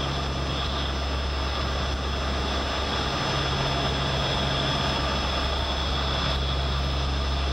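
Engines of a Lockheed C-130 Hercules at takeoff power make a dense, steady turboprop roar with a constant droning hum. The sound is loud and unbroken, heard from inside the aircraft with no speech.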